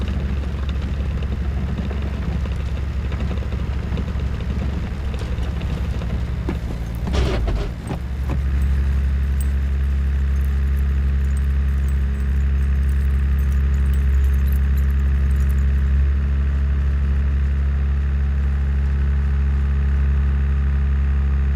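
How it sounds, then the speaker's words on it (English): Land Rover engine running while driving, a steady low drone and cabin rumble with a brief rattle partway through, continuous and close with no talk over it. "No CDs to play, so it's just me and the Land Rover engine"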